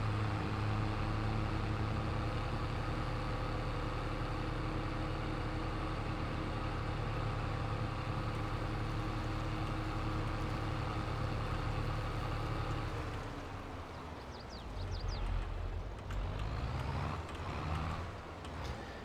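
An Allis-Chalmers tractor engine in Farming Simulator 22 starts and runs at a steady, loud idle with a deep continuous hum, settling and wavering slightly in its last few seconds.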